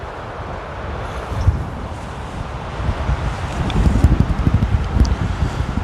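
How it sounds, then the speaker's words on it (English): Steady gusting wind rushes and buffets, growing stronger and rougher in the second half, with low rumbling bursts against the microphone. "Wow, that is super windy all of a sudden."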